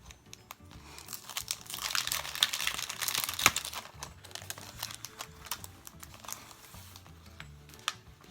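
Sheets of Target Dollar Spot craft paper are handled close up: irregular crinkles, rustles and soft crunches, with a few sharper snaps, going on steadily without speech.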